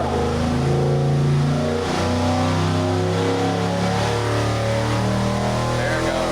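A 6.4L Gen III HEMI V8 revving on a dynamometer pull, a loud sustained engine roar climbing steadily in pitch, with one brief dip in the middle, and no talk over it.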